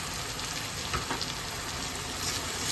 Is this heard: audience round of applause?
no